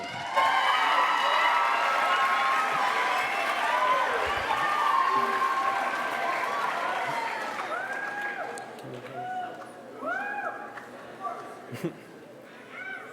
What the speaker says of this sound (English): Ladies and gentlemen, give a warm round of applause to Eric Goldstein and Amanda Albano.